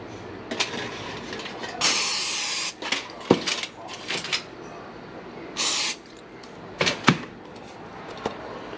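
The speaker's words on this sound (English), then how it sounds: "you need to spray those ramekins. It says to use olive oil spray." Olive oil spray coating ramekins for a ricotta bake comes as two short hissing bursts, close by, set among kitchen clatter and handling noises.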